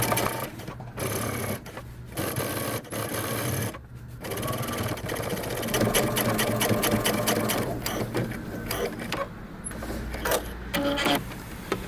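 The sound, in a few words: sewing machine top stitching jeans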